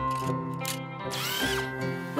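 A cartoon power drill whirs steadily with a rising, whining motor pitch, close and continuous over a music-like background.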